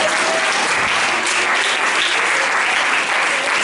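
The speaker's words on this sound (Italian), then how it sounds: "dai, fai una applauso." An audience at an Italian religious talk breaks into sustained applause. The clapping is loud and dense and stays even for several seconds, with no speech over it.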